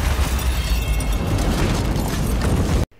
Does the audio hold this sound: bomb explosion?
yes